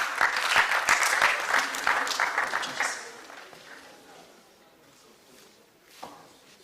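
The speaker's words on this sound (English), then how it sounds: "A round of applause to the presenter" Audience applause for a presenter at a school leadership event, a loud burst of dense clapping over the first three seconds that thins and fades away, with a voice briefly heard near the end.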